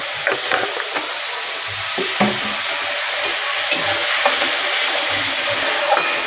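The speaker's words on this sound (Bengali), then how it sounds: "জল দিয়ে ভালো করে এটা দু তিন মিনিট কষে নেবো" Spice paste loosened with water is stir-fried in a pan for a fish curry with cauliflower and potato, giving a steady close sizzle and hiss with intermittent scraping stirs and no talking.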